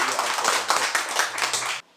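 A live audience of dance enthusiasts bursts into applause at a Korean rhythm-dance gathering. Dense, steady clapping fills nearly two seconds, then stops abruptly.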